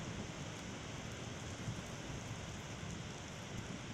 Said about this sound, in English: Man, look at how much the rain's blowing now.